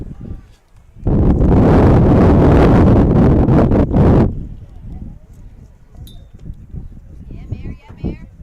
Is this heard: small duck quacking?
no